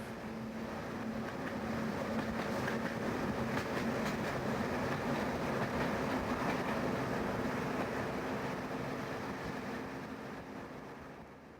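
A train rumbles steadily along the railway to Hamilton, Scotland, a continuous broad roar with a faint low hum, swelling in and fading slightly at the end; no voices.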